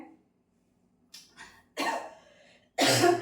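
Several sharp coughs break a quiet room, a couple of small ones followed by two louder, harsher bursts close by.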